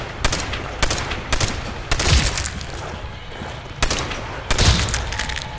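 Gunfire in Call of Duty: World at War zombies mode rings out as several sharp, loud single shots spaced irregularly, with bursts at times and quieter game ambience between them.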